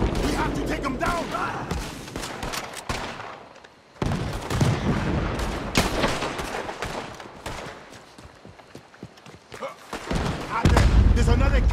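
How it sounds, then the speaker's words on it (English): Rapid gunfire and heavy cannon blasts in Red Dead Redemption II, with bursts of shots and booms throughout, while characters shout over the battle. "He's shooting! We have to take him down!"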